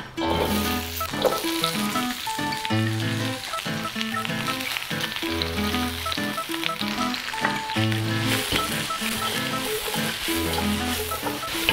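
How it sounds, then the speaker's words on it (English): Jackfruit dish base sautéing in oil in a saucepan or wok over medium heat, with a loud continuous sizzle and crackle throughout, joined by a repeating rhythmic tone in the background. "add a touch of oil and get that base sauteing off"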